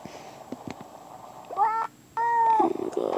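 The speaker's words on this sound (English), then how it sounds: "Yeah, that's what you get from meowing." Two cat meows from the My Town video game in quick succession, the second longer and louder, with a few soft clicks and taps before them.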